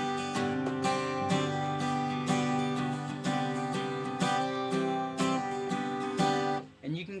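Acoustic guitar chords with a hammer-on and pull-off on a suspended chord, strummed and ringing in repeated phrases, close and clear, ending with a brief scrape of fingers on strings.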